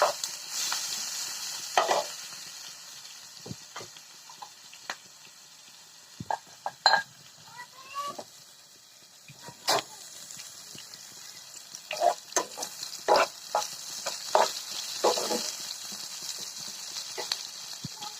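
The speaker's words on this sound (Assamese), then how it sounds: "পিঁয়াজখিনি অকণ মেৰুন কালাৰ হোৱালৈকে ফ্ৰাই কৰি ল'ম" Onions frying with turmeric, colour powder, cumin, coriander and salt in a pan, with a quiet sizzle under intermittent sharp clinks and scrapes of a spoon against the pan, irregular and close.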